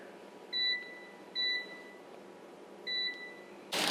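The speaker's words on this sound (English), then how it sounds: "I'm gonna preheat the air fryer." An air fryer beeps as it begins preheating, three short, clear electronic tones spaced about a second apart in a quiet kitchen, followed by a brief burst of noise at the end.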